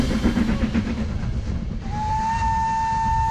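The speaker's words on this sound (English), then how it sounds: "Here the train begins the climb up a 1 in 80 gradient, by no means an easy feat." A Watercress Line steam train climbing a 1 in 80 gradient, heavy rumbling rolling noise joined midway by a sustained high whistle tone that holds to the end.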